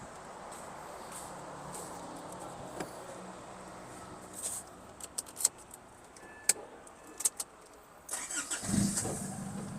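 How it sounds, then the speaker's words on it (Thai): A car sits quiet as keys jangle and clicks sound close by, then its engine cranks and catches near the end in a short rising burst. "เรามาฟังเสียงเครื่องกันดูนะครับ"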